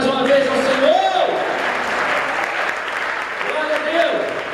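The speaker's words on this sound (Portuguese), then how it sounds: "Você pode aplaudir mais uma vez ao Senhor?" A church congregation claps together at a worship service, a steady wash of applause lasting throughout, with a sustained voice or tone rising over it near the start and again toward the end.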